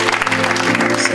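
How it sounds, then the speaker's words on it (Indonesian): Church congregation applauding during a service, a dense, loud, steady wash of clapping that fills the room for a brief moment with a sustained hum beneath it. "Boleh beri tepuk tangan yang terbaik"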